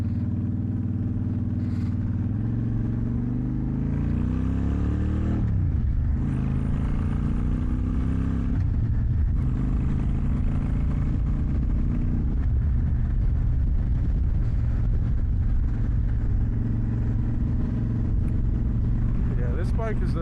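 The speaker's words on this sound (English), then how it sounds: "This bike is a good cruiser" A motorcycle cruises through city streets with a steady, loud engine drone that rises and falls as the throttle changes, with a rider talking over it.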